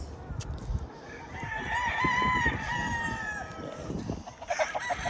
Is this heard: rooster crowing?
yes